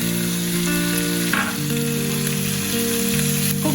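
Tomatoes go into a pan of translucent onions and sizzle loudly and steadily over high heat, with a brief clattering stir in the middle and no talking.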